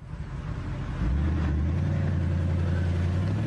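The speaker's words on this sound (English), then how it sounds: "The engine needs to meet certain standards for both noise and emissions." A BMW 6 Series car engine runs during a noise test, a low steady drone that steps up in loudness and pitch after a second, then holds an even, close hum.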